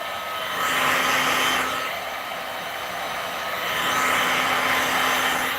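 A heat tool runs on a resin countertop to melt small spots down, giving a loud, steady blowing roar that swells and eases in two long passes.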